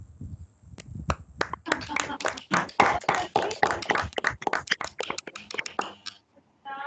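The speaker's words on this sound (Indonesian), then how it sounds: "kita beri aplaus bareng-bareng buat kelompok ini" Scattered applause from an online class group over open microphones, ragged claps of uneven loudness merging into a brief burst before thinning out, with faint background noise.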